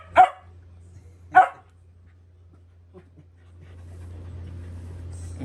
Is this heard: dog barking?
yes